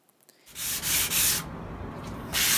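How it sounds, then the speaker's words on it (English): Rhythmic scratchy rubbing of 150-grit sandpaper on a wooden mid-century modern dresser, back-and-forth strokes in quick succession, close and fairly loud with no talking. "Here I am sanding it with 150 grit first"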